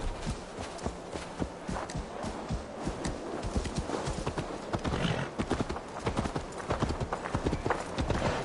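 Horses in Assassin's Creed Valhalla galloping with dense, rapid clip-clop hoofbeats throughout, joined by occasional neighing, loud and close.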